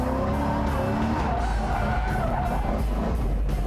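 A car drifting sideways on a track, tires skidding and squealing continuously over a loud, steady engine roar, close and unbroken for a few seconds.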